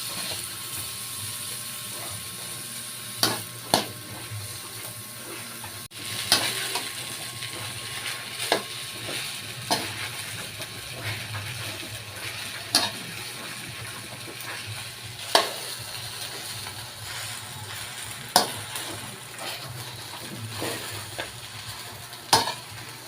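Fried rice made with leftovers sizzles quietly in a pan, with repeated scrapes and clinks of a spatula stirring at irregular intervals.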